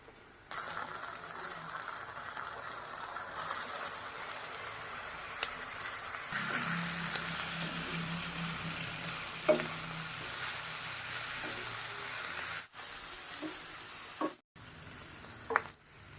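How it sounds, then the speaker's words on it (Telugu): Mutton boti pieces sizzle and fry in a pan with softened onion and tomato, a steady close hiss with occasional stirring scrapes and clatters, no talking. "రెడీ చేసుకున్న ఈ గోటి ముక్కల్ని ఇప్పుడు ఉల్లిపాయ టమాటా మగ్గిపోయింది కదండి ఇప్పుడు అందులో వేసేసుకోవాలి"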